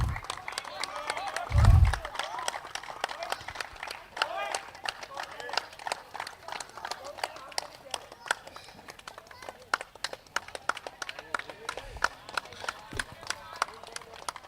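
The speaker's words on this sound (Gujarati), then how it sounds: "તાળીઓ ઊભી ન રહેવી જોઈએ." An audience at a cricket league prize ceremony keeps up a brisk, continuous round of clapping for the runner-up team, with a loud thump early on, while someone speaks over the applause.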